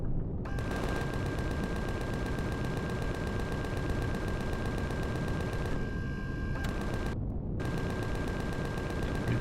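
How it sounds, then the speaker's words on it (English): A large minigun drone in the video game Empyrion Galactic Survival fires continuously, a dense, loud gatling roar that holds for most of the stretch, broken by two brief pauses near the end. "It's a large minigun drone."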